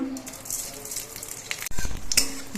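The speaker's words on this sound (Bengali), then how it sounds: "তেলের মধ্যে দিচ্ছি অল্প করে একটু পাঁচ ফোড়ন" Panch phoron spices sizzle in hot oil in a wok: a steady light crackle that jumps to a louder, sharper burst partway through as more goes into the pan.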